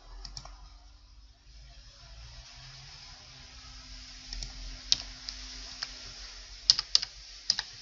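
Fingers tap on a computer keyboard entering digits, sparse quiet keystrokes at first, then a few sharper clustered clicks near the end over a low background hum.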